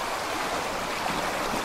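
Ocean waves wash in along a rocky coast at Clover Point near the harbour in Victoria, Vancouver Island, making a steady, loud, broadband rush of surf with no speech.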